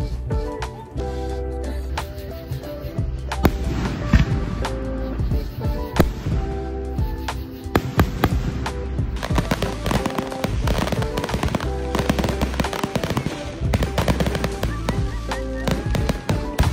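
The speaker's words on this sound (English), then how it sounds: "Fireworks!" Fireworks go off near a river resort campground, with dense, continuous crackling and popping bursts, loud and close, and faint voices mixed in.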